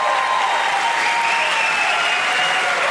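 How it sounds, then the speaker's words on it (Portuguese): Studio audience bursting into loud, sustained applause, dense clapping that holds steady throughout the short burst with no voices on top. "agora eu quero uma salva de palmas para esse cara"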